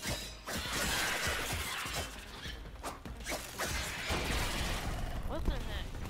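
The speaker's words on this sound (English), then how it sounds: "Oh wait, I can break the glass." Glass breaking in the video game Warframe, crashing and shattering amid dense, loud game effects and mechanical clatter, with talk over it.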